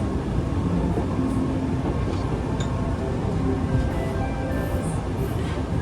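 A Nankai Railway Gran Tenku sightseeing train rumbles steadily from inside a carriage as it nears Kawachinagano Station, with a continuous low roar and faint clinks throughout.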